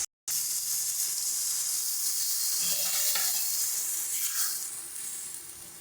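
Water hits a pan of frying mustard paste and green chillies, sending up a loud, steady sizzling hiss right after a brief silence. The sizzle slowly fades toward the end, with no voices.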